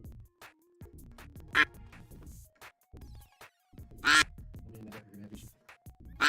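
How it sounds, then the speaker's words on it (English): A duck quacks in loud, short bursts, a few seconds apart, close by, amid intermittent background talk and clattering in a room. "Get that duck out of there."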